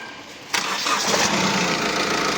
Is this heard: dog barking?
no